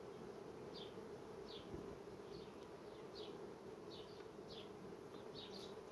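Honeybees buzz around an opened hive frame as a beekeeper works near them with a hive tool, a steady droning hum with occasional individual bees zipping past close by.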